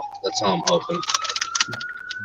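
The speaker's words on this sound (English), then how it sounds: "No, I think that's just the ambulance." An ambulance siren wails steadily in the background, its pitch slowly rising, while people talk over it and keys clatter nearby.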